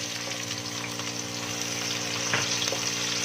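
Onions frying in half a cup of hot oil for achari chicken, giving a steady, continuous sizzle and bubbling hiss close up throughout, with no talking.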